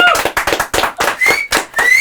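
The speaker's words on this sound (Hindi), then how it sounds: "एक बार जोरदार तालियां होनी चाहिए फॉर सारा का" Audience clapping for actress Sara Ali Khan at a podcast recording, sounding as several uneven bursts of hand claps, fairly close and loud, with voices whooping and talking over the top.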